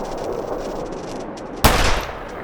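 A single loud, sharp gunshot in The Long Dark fires partway through and decays quickly into a short ringing tail over a low ambient background.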